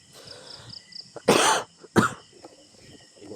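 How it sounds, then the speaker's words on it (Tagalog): Two loud, close coughs from a man outdoors on a cold night, each a harsh burst about a quarter-second long, separated by a short pause, with faint background murmur and rustling. "Inuubo na ako tol."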